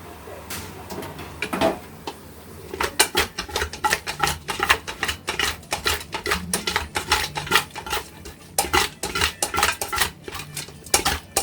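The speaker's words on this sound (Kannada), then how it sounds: "ಸ್ವಲ್ಪ ಅರಿಶಿನ ಹಾಕ್ಬಿಟ್ಟು ಮಿಕ್ಸ್ ಮಾಡೋಣ" Chicken being stirred in a cooking pot after turmeric goes in, a metal spoon clinking and scraping against the pot in quick, uneven bursts that continue steadily, with no talking.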